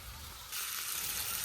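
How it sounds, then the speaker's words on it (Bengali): Onions and green chillies frying in a pan in a village kitchen, a soft low sizzle that suddenly swells into a brighter, louder steady hiss partway through, with no talking. "পেঁয়াজ কাঁচামরিচ গুনে ভালোভাবে ভেজে নিছি"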